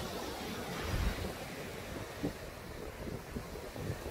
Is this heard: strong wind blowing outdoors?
yes